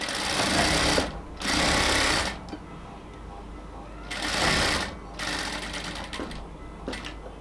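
A sewing machine stitches a band collar in three bursts of rapid, dense whirring, separated by quieter pauses with faint handling noise.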